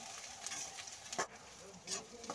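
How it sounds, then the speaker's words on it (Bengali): Green chilies and two medium onions sizzling in hot oil in a wok, a soft crackling fry broken by a few scraping stirs of a spatula, fairly quiet and close. "সেগুলো দিয়ে একটু ভাজা করে নিচ্ছি"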